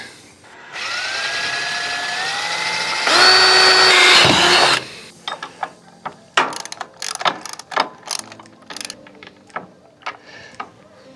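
A power drill runs steadily into a vehicle rig to mount pod lights, its motor whine rising in pitch, then cuts off, followed by scattered clicks and clunks of handling tools.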